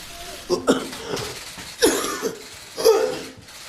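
Several short coughing bursts, close and fairly loud, spaced out with brief pauses between them, with no talking over them.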